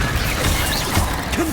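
Levioso levitation spell cast in Hogwarts Legacy, a quick magical whoosh with creaking, mechanical rattling and a bright whistling shimmer, loud and close, with no talk.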